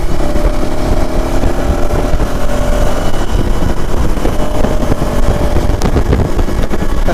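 A motorcycle engine runs steadily while riding, a loud continuous drone mixed with heavy wind rush against the microphone throughout.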